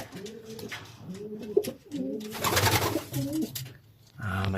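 Racing pigeon hen cooing at close range in a loft, several repeated throaty coo phrases in a steady rhythm with a brief burst of rustling or flapping in the middle.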